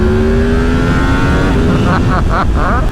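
A motorcycle engine revs loudly up close, rising in pitch, then gives several sharp blips in a row, with wind noise throughout.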